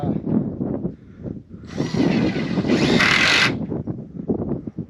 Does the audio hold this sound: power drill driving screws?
yes